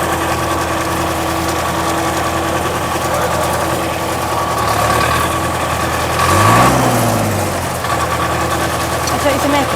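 A tractor engine idles and chugs steadily in a Punjabi village, with a brief rise in revs partway through, while voices talk over the running motor.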